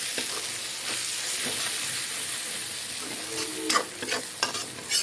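Spice masala with Kashmiri red chilli stirred and frying in oil for an Assamese chicken dish, a steady close sizzle with scraping spoon strokes that grow louder and more frequent toward the end.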